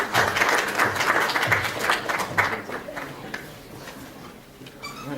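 Audience at a school debate tournament applauding after a speech, loud clapping at first that gradually thins out and fades over several seconds, with voices faintly mixed in.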